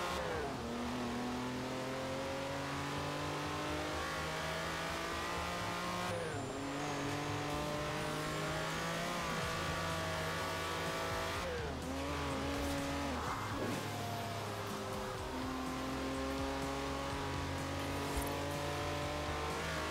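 A Lamborghini Countach races in Forza Horizon 4, its engine roaring and revving through repeated rising gear pulls, with shifts, tire squeal and sustained loud acceleration throughout, no talking.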